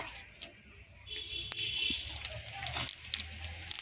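Cumin seeds, dried red chillies and onion temper in hot oil in a kadai, producing a soft, uneven crackle with scattered sharp pops and small clatters, fairly quiet overall.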